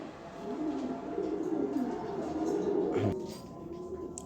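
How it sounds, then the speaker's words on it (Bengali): A 2015 racing pigeon from the BRBFC club coos softly and steadily in a low, murmuring drone, faint and continuous against quiet room noise. "এই হচ্ছে বিআরবি এফসি ক্লাবের কবুতর।"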